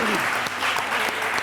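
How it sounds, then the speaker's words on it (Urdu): Studio audience applause for a guest on a Pakistani entertainment TV show, dense steady clapping that fills the whole moment at moderate level with no break. "بہت ساری تالیاں ڈاکٹر جمیل راٹھوڑ صاحب کے لیے"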